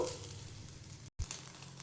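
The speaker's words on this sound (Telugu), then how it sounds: "అందుకోసం స్లో వంట మీద నిదానంగా వేయించుదాం ఇప్పుడు" Grated coconut and semolina slowly dry-roasting in a pan over low heat for rava laddu, making a soft, steady hiss with a low rumble, broken by one brief silent gap.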